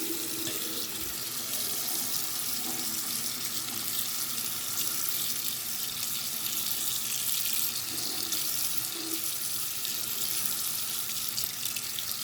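Tap water running steadily into a sink while pliers are rinsed, a close, continuous splashing hiss with occasional small knocks, no speech.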